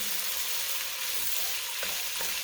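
Gravy stirred in a pan with a spoon, a broad continuous hiss of hot liquid with faint scraping strokes late on, steady and moderately quiet without speech.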